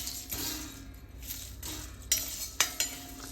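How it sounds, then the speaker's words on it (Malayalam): Garam masala spices dry-roast in a pan while a utensil stirs them, with soft scraping swishes and a few sharp metallic clinks at irregular intervals over a faint background hiss. "ഇളക്കിക്കൊണ്ടിരിക്കുക."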